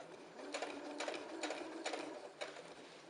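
A sewing machine stitches a small pleat into fabric for a utility pouch, running steadily with four or five short bursts of rapid stitching over a constant motor hum, close and alone.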